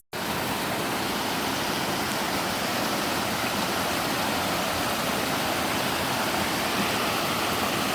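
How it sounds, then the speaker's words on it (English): The Hardcore Cascades waterfall beside the Appalachian Trail in spring, a loud, steady, close rushing roar of falling water that holds unbroken throughout. "Just came across a really beautiful waterfall."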